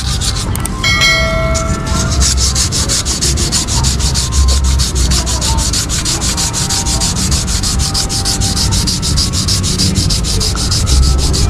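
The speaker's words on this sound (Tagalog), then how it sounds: "At tamaan ang ating liha." Steady, continuous scratchy rubbing of sandpaper on a Yamaha Mio i 125 scooter part, close and loud, with a faint high ringing tone early on and no talking.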